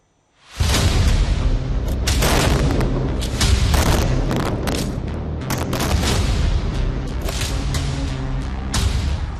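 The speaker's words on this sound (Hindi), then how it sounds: "गाजा पर भीषण बमबारी" Heavy explosions from bombing in Gaza boom repeatedly after a brief silence, deep rumbling blasts layered with sharp cracks, dense and loud throughout.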